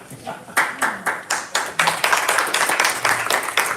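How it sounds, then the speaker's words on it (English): Clapping from a small audience at a school district budget workshop, a few seconds of loose, uneven hand claps with distinct individual strikes and faint voices underneath. "Clapping because it's the final time."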